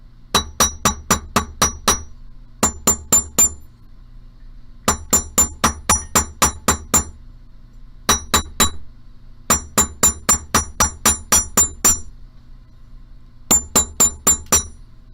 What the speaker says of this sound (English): I'm going to grab my chasing hammer, I'm going to put them on my bench block, I'm going to hammer the crap out of them